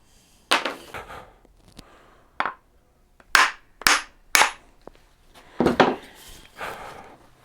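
Axe head being driven onto the tongue of its wooden handle, a series of sharp, close wooden knocks in irregular groups, some struck in quick pairs, with quiet gaps between.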